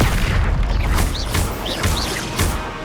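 Incendio fire spells cast in Hogwarts Legacy, a series of loud booming whooshes with crackling bursts, several casts in quick succession with short whistling tones between them.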